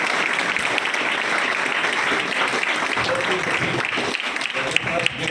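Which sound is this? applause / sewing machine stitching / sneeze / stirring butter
applause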